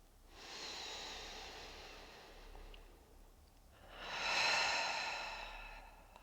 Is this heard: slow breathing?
yes